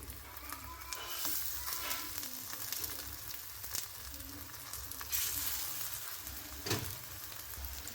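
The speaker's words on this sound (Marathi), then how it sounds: "या प्रकारे पूर्ण बैगन असे ठेवायचे आणि चांगले रोस्ट करून घ्यायचे" A whole eggplant roasting on a hot tawa, steady close sizzling and crackling throughout, with a few soft shifts and taps as it sits on the griddle.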